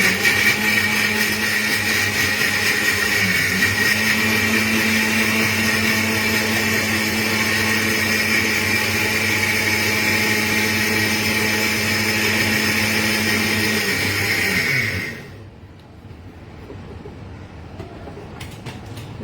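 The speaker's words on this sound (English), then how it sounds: "you add it to the mixer" An electric mixer grinder whirs loudly and steadily as it blends a coarse Goan curry gravy, a strong motor whine with a shifting pitch that runs for about fifteen seconds before cutting off abruptly, leaving faint rattling behind.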